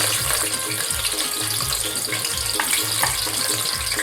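Onion frying in hot oil in a cooking pot, a dense continuous hiss and crackle held at a steady level, close and loud for a few seconds with no talk.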